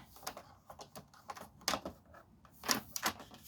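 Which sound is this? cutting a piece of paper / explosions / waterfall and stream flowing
cutting a piece of paper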